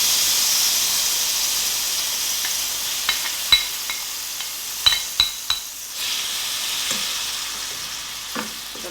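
Onion frying in table oil in a home kitchen: a steady, fairly loud sizzle runs throughout, broken by several sharp utensil clinks and scrapes in the middle as the pan is stirred.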